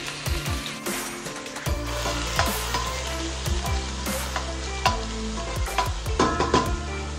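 A spoon stirs a sizzling steak and sofrito mixture in a pot for Puerto Rican bistec, with repeated scraping sweeps and squeaks over a constant frying hiss, heard up close without speech.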